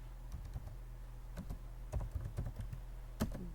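Quiet typing on a computer keyboard, with scattered soft key clicks in an irregular rhythm and a few sharper taps, close by in a calm room.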